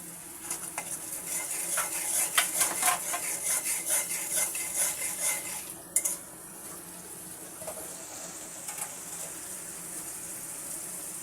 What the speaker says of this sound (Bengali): এবার আমি মশলাটাকে ভালো করে মিশিয়ে নিচ্ছি